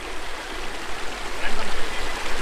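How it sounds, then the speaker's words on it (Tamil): Stream flowing beneath a bridge in Yercaud, a steady broadband rush of water that holds throughout with slight swells, close and moderately loud, with no voices. "ஒரு பாலத்துக்கு அடியில் தண்ணி போய்கிட்டு இருந்துச்சு"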